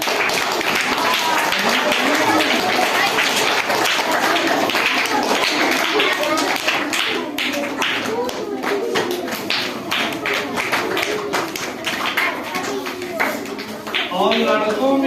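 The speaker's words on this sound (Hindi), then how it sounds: "ताली।" A school crowd at a Saraswati Puja celebration claps, scattered taps building into steady applause that runs for several seconds, with a voice speaking over it early on.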